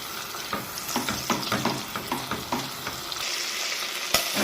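Chicken and pigeon stuffing is stir-fried in a pan with a close, steady sizzle and repeated scraping stirs, clattering utensil strokes in a quick uneven rhythm, with no talking.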